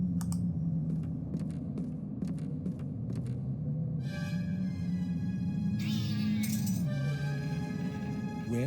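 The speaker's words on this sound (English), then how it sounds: "A sleeping cat? Where did this thing come from?" A cat meows in the point-and-click adventure game The Black Mirror, a few short meows at the start over a steady low game background hum, followed by chiming musical tones and a rising sweep.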